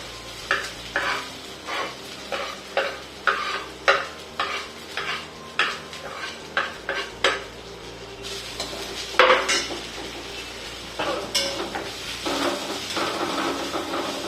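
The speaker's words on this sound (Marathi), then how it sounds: "ही जी मेथी आपण कापून घेतली हे यात आपल्याला परतवून घ्यायचे" Chopped fenugreek leaves sautéed in a pan over high heat, a spoon scraping and stirring in a steady rhythm of a dozen strokes over a constant sizzle, close and clear, later giving way to louder sizzling and clatter.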